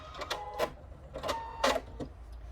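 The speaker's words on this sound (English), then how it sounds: "this needle is getting blunt already, as you can hear" A sewing machine with a blunt needle stitches fabric for a peg bag, making a few short, separated bursts of whirring, thumping punches at a quiet level over a low background hum.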